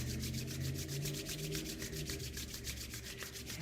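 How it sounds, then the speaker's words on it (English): Two palms rub briskly together to build warmth, making a close, soft, rhythmic swishing of quick, even strokes with no talking. "You're going to rub them again. Generate some more heat."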